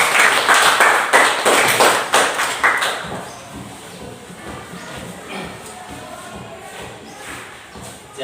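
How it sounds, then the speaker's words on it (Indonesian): Clapping from a classroom group rings out loudly for about three seconds, then fades into soft shuffling, taps and murmuring room noise. "Ya, tepuk tangan."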